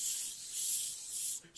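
Pepper spray discharged from a canister with a squirt cap, a continuous close hiss lasting over a second that wavers slightly before cutting off.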